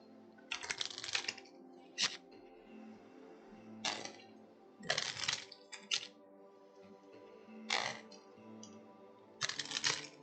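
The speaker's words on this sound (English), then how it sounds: "So we're gonna shuffle these up." Dragon Keepers board game cards being shuffled, several quick riffling bursts separated by pauses, close and fairly quiet with no talk.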